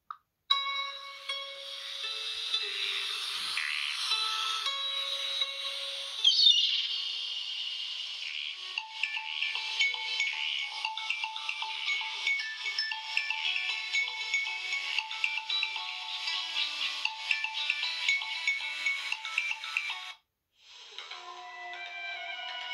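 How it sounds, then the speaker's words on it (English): Ringtones from a 2009 Samsung Blue Earth phone play one after another, bright electronic melodies close up, with a short gap near the end before another tone starts. "I'll just do a quicker video of the ringtones."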